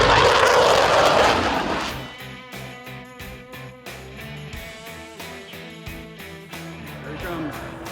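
Propeller-driven warbird aircraft passing at the EAA AirVenture Oshkosh air show: a loud roar at first that eases into a steady, throbbing engine drone with crowd noise and voices underneath.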